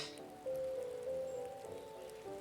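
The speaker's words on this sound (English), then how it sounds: "You can hear the rain outside in real life." Rain falling outside, a faint steady patter heard from indoors under a sustained tonal hum that rises and shifts, with no talking.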